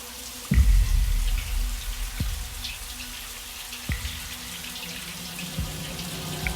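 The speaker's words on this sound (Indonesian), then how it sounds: "dan keran itu masih terdengar menyala." A water tap runs steadily in a quiet restroom, with a few sharp knocks and drips breaking through the hiss.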